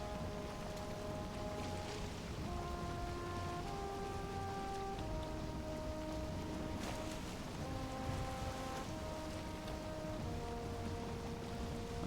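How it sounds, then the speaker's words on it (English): Steady rain near a swamp in the video game Valheim, a continuous soft patter of drops under gentle tonal music, quiet and even throughout with no voices. "as long as we're near the swamp, we are going to be in like rain weather"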